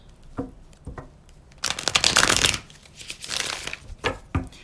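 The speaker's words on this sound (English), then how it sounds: "Give it a few more shuffles." Crisp riffling of tarot cards being shuffled, a few short flicks then a longer dense burst and more quick riffles, close and clear.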